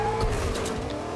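A car engine drones steadily with a faint tire squeal in Fortnite gameplay, a continuous mid-level vehicle rumble heard at a moderate distance with no talking over it.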